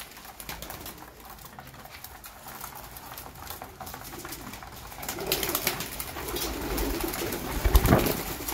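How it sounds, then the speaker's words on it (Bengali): Two young Teddy and Malbai pigeons coo softly at close range amid faint rustling and pattering, with the sounds growing a bit louder toward the end. "এই যে ওপরে দুটো বাচ্চা পায়রা বসে রয়েছে,"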